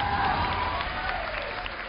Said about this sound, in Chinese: 首先掌声欢迎贾玲